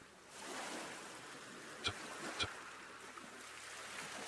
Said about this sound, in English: The soft rhythm of the waves arriving and retreating